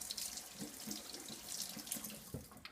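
Tap water runs steadily into a sink as a makeup brush is rinsed, a close, continuous splashing stream with faint irregular patters and no voices.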